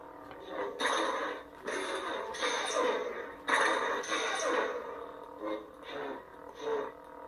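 Several swelling, buzzing electronic hums from a toy lightsaber set to its Episode 2 sound font rise and fade in irregular bursts as it is swung and clashed, fairly close and loud.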